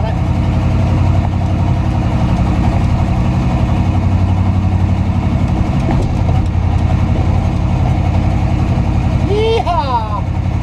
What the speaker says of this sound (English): As you can tell, Chunk's got a really nice exhaust system on it.